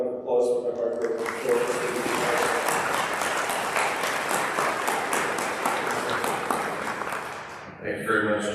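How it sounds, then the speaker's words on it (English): A large audience at a state public safety awards ceremony applauds steadily for about eight seconds, a dense, even roar of many hands clapping that fades slightly at the end. "Let's give them all a round of applause for their hard work."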